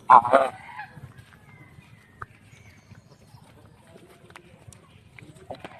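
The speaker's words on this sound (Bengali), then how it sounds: "এখন রাজহাঁসগুলো চলে আসলো এখন সব হাঁস আবার এক জায়গায়" A flock of domestic geese walking home to gather with ducks lets out one loud, close honk at the start, then the scene drops to quiet, scattered rustling and faint calls.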